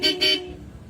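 Two short, loud Bosch horn toots in quick succession, close by on a Honda ADV 160 scooter, followed by a faint rumble.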